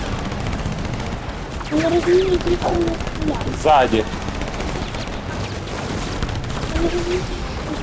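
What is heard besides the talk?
gunfire in a video game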